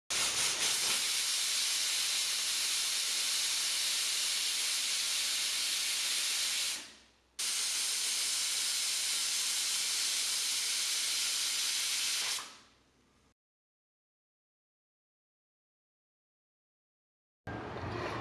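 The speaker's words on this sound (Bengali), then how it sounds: "এরপরে আমি প্রেসার কুকারটাকে গ্যাসের উপরে বসিয়ে দিলাম এটা সিদ্ধ হওয়ার জন্য।" A pressure cooker on a gas stove, boiling jackfruit for curry, blasts a loud continuous steam hiss that cuts out briefly, resumes for several seconds, then stops into silence before returning at the very end.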